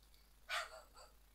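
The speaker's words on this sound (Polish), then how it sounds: "No, mój pies szczeka." A pet dog barks once in a quiet room, a short, fairly faint yip followed by a couple of softer trailing yelps, with no talking over it.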